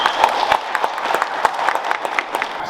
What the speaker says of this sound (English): All right, give Mr. Morales a hand clap.